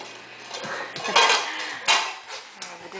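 Dishes and pans clatter and clink as they are handled in a new dishwasher, with several sharp metallic knocks and rattles at irregular intervals, close by.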